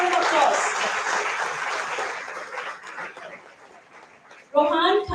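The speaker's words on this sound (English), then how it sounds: "Please, big round of applause." Applause from students and parents at an academic excellence awards ceremony, a thick burst of many hands that gradually thins and fades, followed by a voice speaking over a quieter room.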